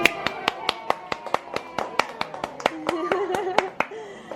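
Hands clap in a steady rhythm for a crystal artist at the EPCOT Mexico pavilion, one close, sharp clapper over thinner applause, with a person talking partway through.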